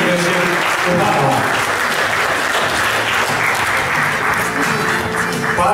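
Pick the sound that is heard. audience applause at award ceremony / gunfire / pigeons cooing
audience applause at award ceremony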